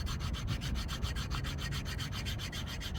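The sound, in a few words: rubbing new brake pads together, Ford Escape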